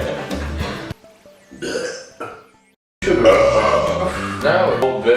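Loud, close burps from people in a burping challenge come in several bursts with short gaps between them, followed by a long, rough belch, with voices and reactions mixed in.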